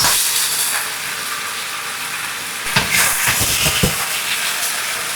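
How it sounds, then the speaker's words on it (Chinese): Cucumber and eggs stir-fried with sauce in a hot wok: a loud, steady hissing sizzle, broken around the middle by a few clattering tosses of the spatula against the pan. "快速翻炒均匀，使黃瓜、雞蛋的表面都能夠裹上料 汁"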